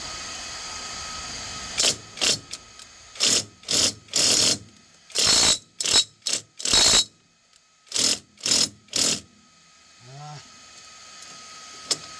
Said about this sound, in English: we got my little ratchet here. We're going to see if we can get this.